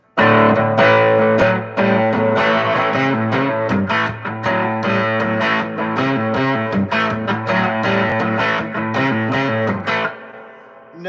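Electric guitar chords played through a reverb and tremolo pedal ring out with lush reverb and a wavering tremolo effect, played steadily and loudly before stopping abruptly.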